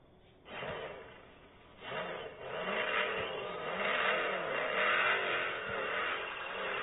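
A Mopar Dodge car engine revs in Grand Theft Auto, rising in loud surges after a brief quiet start and holding a sustained, slightly rough roar with no talking.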